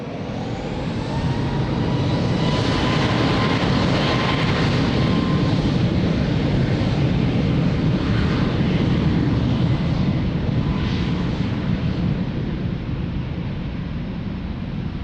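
A Ryanair jet takes off at Lisbon Airport, its engines roaring loudly and steadily from a distance in a broad, sustained rush that holds for the whole stretch.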